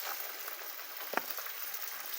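Chopped tomato fries with onion in a pan, giving a quiet, steady sizzle and one brief stirring clink midway.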